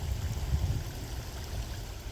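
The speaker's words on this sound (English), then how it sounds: "I've never actually noticed that waterfall over there." Water from a waterfall and stream in a park rushes steadily, a low continuous flowing wash that holds even throughout, with no voices over it.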